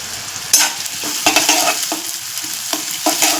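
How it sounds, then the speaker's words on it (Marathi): Garlic and green chilli sautéed in a pan for a drumstick leaf dish, with a close, steady sizzle broken by repeated spatula stirs and scrapes at an irregular pace, no talking. "लसूण हिरवी मिरची आणि परतून घेऊया"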